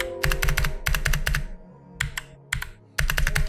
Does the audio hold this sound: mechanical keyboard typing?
yes